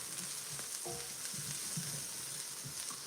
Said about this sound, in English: Let's give our onions a quick little stir here.